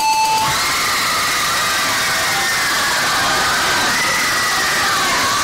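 A large audience bursts into sustained applause and loud cheering, with shouts and whoops filling the hall, following a correct answer at a civic knowledge bowl quiz competition.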